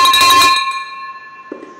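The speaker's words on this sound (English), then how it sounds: "Are you guys ready for this silver, big silver bell?" A big silver bell is struck once, its bright ringing tone with clear sustained overtones decaying slowly over about a second and a half, followed by a faint knock.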